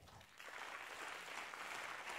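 Faint, distant audience applause welcoming a guest at an ADAPEI meeting, a steady wash of clapping that continues throughout.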